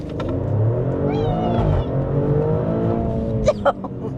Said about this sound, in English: This seems like a pretty good opportunity to try out launch control